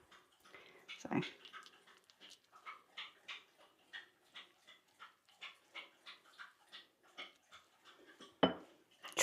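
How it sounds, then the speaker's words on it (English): Several dogs lap water from a bowl in a kitchen, a quiet run of quick, rhythmic wet laps with a couple of sharper clinks against the dish. "all the dogs decide they need a drink."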